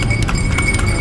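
An Indonesian horse pulling a delman cart, its hooves clip-clopping in a quick, steady rhythm, close and loud over a rumbling background of road and cart noise.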